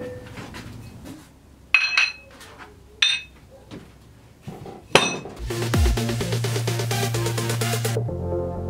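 Heavy weights lifted off a glued XPS foam surfboard blank, with several sharp clunks and clinks spaced apart, then a sustained scraping rumble near the end, close and fairly loud.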